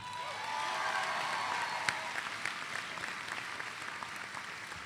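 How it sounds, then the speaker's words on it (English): Applause from a graduation audience at a high school ceremony, a broad steady patter of many hands clapping that holds at moderate level for several seconds. "Can I please get a round of applause?"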